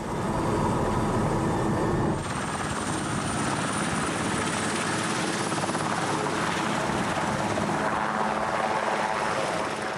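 A helicopter roars steadily and loudly throughout, its dense rotor and engine noise filling the scene with a slight shift in tone partway through.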